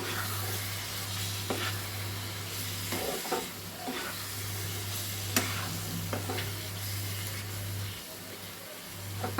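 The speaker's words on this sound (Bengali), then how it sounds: "আমি ডিমটা এর সঙ্গে মিশিয়ে দেব।" Egg being stirred into a frying pan with paneer, a soft steady sizzle under repeated scraping strokes of a spatula, close and quiet with a faint electrical hum.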